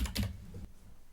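Computer keyboard typing while a search is entered in a web page builder, a quick burst of close, soft key clicks that stops abruptly, leaving quiet room tone.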